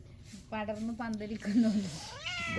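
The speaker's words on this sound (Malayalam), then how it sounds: "പൂച്ച കരഞ്ഞ് കരഞ്ഞ് ബാക്കിലേ നടക്കുന്നുണ്ട്" A cat meows repeatedly in drawn-out, wavering cries, fairly close and moderately loud, with a rising final call.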